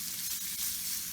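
Fajita beef sizzles in a pot while being stirred, a steady, close hiss of frying that carries on without a break.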